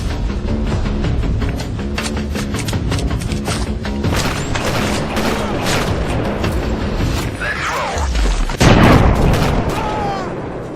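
Loud, dense video-game gunfire with heavy booming shots and crashing impacts, continuous and close throughout, with a sharper burst near the end.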